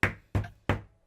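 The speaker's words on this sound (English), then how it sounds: "You hear the knock echo" Three loud, evenly spaced knocks on a door during a tabletop Dungeons & Dragons session, each a sharp thud that decays quickly, with no voices.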